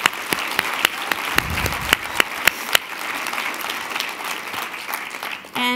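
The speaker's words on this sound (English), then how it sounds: "I actually would just love to have a round of applause" An audience at a closing session applauds: loud, separate claps stand out early over a steady wash of clapping that carries on throughout, ending with a brief tonal sound.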